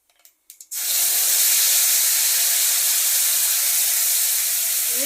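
A prepared spice paste is tipped into hot oil in a pan while cooking a yogurt-based tangra fish dish. A loud, steady sizzling hiss starts suddenly after a few faint clinks and carries on to the end.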